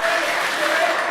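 Brief burst of clapping from a student quiz competition audience between university teams, close and fairly full, with a voice briefly sounding over it.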